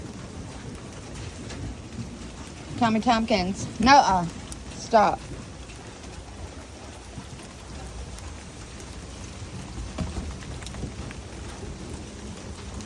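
Steady rain falls outside as a constant soft hiss, with a voice speaking briefly over it partway through.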